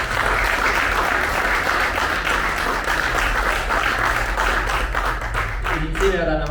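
Strong applause from an audience at a Neapolitan song and film screening event, many hands clapping steadily and loudly, with a voice starting to speak just as it winds down at the end.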